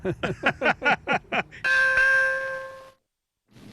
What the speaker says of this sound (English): A Radio Caroline bell was sounded at midday, the time Caroline went on air.